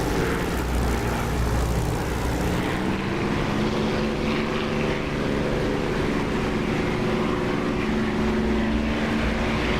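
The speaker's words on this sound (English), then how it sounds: "This is the Echo 19 engine sound, not the DCS Spitfire engine sound," A propeller aircraft engine drones steadily and loudly throughout with the canopy open, played in the DCS flight simulator with the Echo 19 engine sound.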